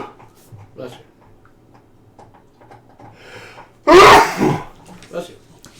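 A single sharp sneeze bursts out near the microphone during a tabletop roleplaying game session, loud and brief, with quiet conversation and murmuring around it.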